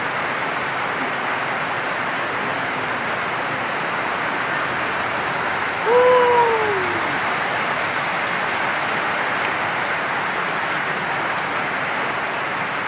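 Constant rain pours down in an even hiss, with a short bird-like whistle rising briefly near the middle.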